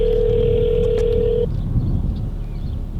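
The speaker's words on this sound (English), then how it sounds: "Yo, call Jimbo." A phone dialing out from inside a Rolls-Royce, a single steady dial tone holding for about a second and a half before cutting off into quiet car interior rumble.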